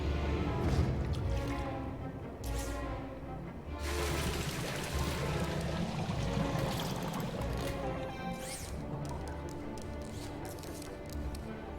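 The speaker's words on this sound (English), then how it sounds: "Water refill complete." A water refill pours in a VR game, a steady liquid gush and trickle running throughout with shifting intensity and some bubbling, fairly loud and close, with no talk over it.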